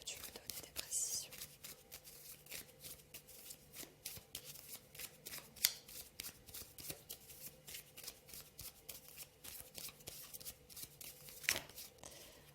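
Tarot cards being shuffled by hand in a quiet room, a fast run of soft riffling flicks and slaps at close range, with faint murmured talk now and then.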